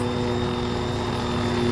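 A helicopter in the Arma 3 combat game roars with a continuous, loud rotor and engine drone and faint high whines, heard up close and alone.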